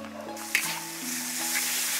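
Green Sichuan peppercorns hitting hot oil in a large wok give a steady close-up sizzle and hiss, with a faint underlying hum and a small pop near the start.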